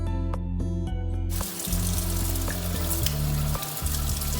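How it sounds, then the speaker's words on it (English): Running tap water at a kitchen sink during handwashing, a steady close rush with a low hum beneath it and no talking. "we're going to wash our hands."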